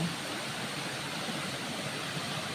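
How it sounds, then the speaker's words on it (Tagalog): River water flowing steadily in a rural farm setting, a continuous broadband rush with no pauses and no voices over it. "may ilog guys oh"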